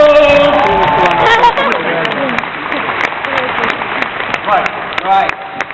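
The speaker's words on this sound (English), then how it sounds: "Give Becca a round of applause" A crowd at a large convention celebration in an exhibition hall claps for a young volunteer, the applause steady and broad while people keep talking over it throughout.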